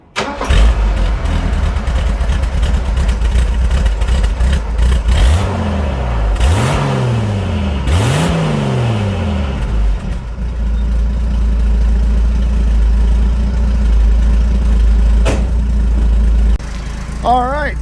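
A 1981 Ford Bronco's 300 inline-six with a freshly fitted side-exit exhaust cranks and fires, blips through a couple of sharp revs, then settles into a loud, steady, rumbling idle up close.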